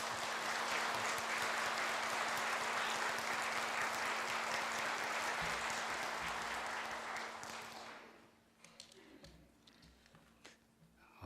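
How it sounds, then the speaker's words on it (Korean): A church congregation applauds loudly in a sustained burst as a pastor is welcomed to the pulpit, then the clapping fades out over a couple of seconds, leaving a quiet hall with scattered soft taps. "그런 마음으로 우리 큰 박수로 목사님 모시겠습니다."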